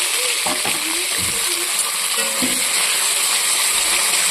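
Jackfruit seeds frying in a wok-style kadai with a little salt give a steady close sizzle, with brief stirring scrapes and clinks early on.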